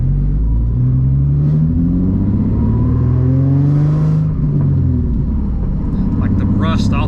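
Nissan 350Z with a swapped VQ35HR V6 driving around the block, its engine droning and revving through long rising pulls with a steady low exhaust rumble, close and loud under occasional talk.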